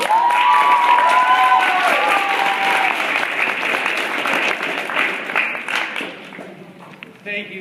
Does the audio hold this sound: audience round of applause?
yes